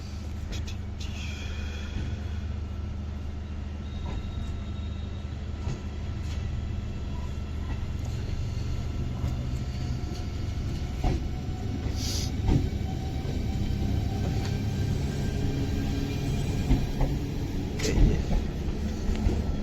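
A fast passenger train runs steadily near Ranaghat station, its continuous low rumble and rattling wheels loud and unbroken throughout, with occasional brief squeals and clanks rising over the drone and no talk.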